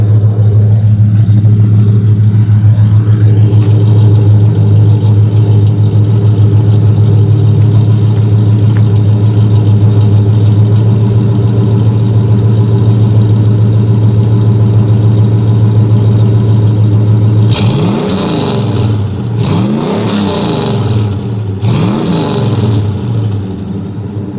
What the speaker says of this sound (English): we'll rev it up a couple times and let you hear it